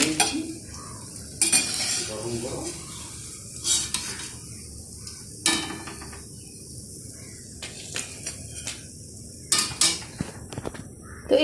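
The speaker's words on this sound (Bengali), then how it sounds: "তো এইভাবেই সবগুলো পটল আমি ভেজে নেব" Pointed gourd sticks frying in oil for a finger fry, a steady sizzle broken by repeated metal spatula scrapes and clinks against the pan.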